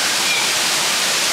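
A loud waterfall roars steadily on a hiking trail, a dense unbroken wash of falling water that fills the whole moment with no let-up.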